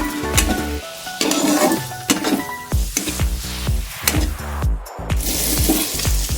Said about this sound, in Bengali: হলুদ গুঁড়ো দিয়ে একসঙ্গে সব মিশিয়ে দেবো।